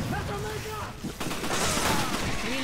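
Rapid gunfire bursts from a Resident Evil 5 Mercenaries match, sounding close and dense over game noise while a voice talks over the shooting.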